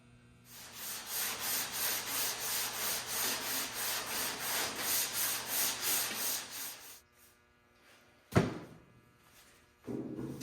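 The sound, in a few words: block sanding glazing putty on a Chevy C10 fender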